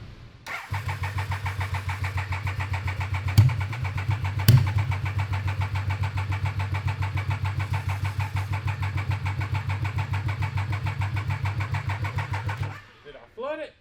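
Triumph 955cc engine in an abandoned go kart project, cranking over in a long, even rhythmic churn for about twelve seconds without catching. A couple of sharp clicks sound partway through, and a voice speaks briefly after the cranking stops.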